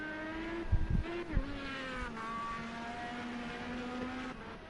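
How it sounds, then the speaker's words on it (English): An Indy car engine in Project CARS 2 on the Spa circuit holds a steady, droning whine with slight pitch shifts. A few sharp thumps and a brief tyre scrub come near the start, and the engine carries on alone. "sliding the car on the exit"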